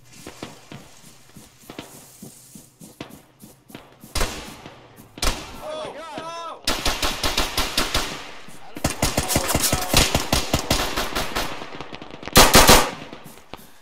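Bursts of video game gunfire during a police shootout, single heavy shots and then long rapid volleys, loud and close, with shouting voices in the gaps between them.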